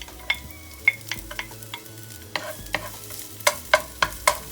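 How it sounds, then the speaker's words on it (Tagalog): Garlic and a little onion sauté in a pan for a Greek chicken and vegetable dish. Bright clinks of a utensil stirring against the pan ring out repeatedly over a low, steady sizzle. "we're gonna saute the garlic, little onion"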